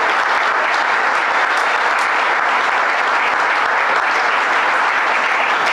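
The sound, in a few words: audience applause for a senator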